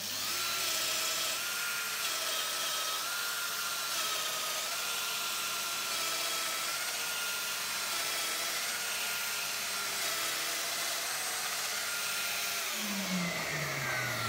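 A Festool Domino joiner whines continuously with a droning motor and wavering cutter tone while plunging a mortise into wood, loud and close, winding down at the very end.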